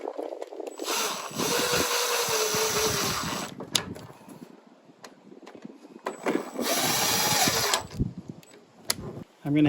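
A power drill drives the headlamp screws on a Ford Econoline van in two sustained whirring bursts, with quieter handling noises and clicks between and after them.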